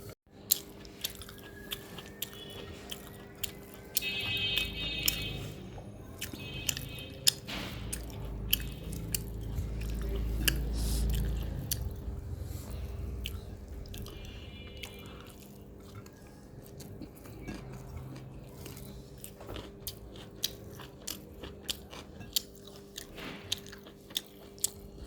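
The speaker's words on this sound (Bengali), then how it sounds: "এখন আমি খাচ্ছি গরম গরম ধোয়া ওঠা ভাত আর এই যে করলা ভাজি।" Hot steaming rice eaten with fried bitter gourd and new potatoes, giving close, soft chewing and squishy mouth sounds with small clicks and faint scrapes of fingers or a plate.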